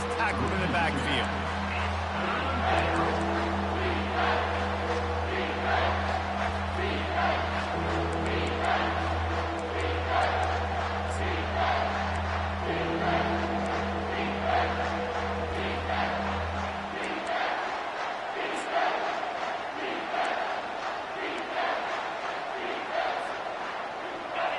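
A football stadium crowd roars loudly and steadily after a big play in a Pac-12 game, a sustained wall of cheering with a low droning hum beneath it for most of the stretch, while a commentator talks over the noise.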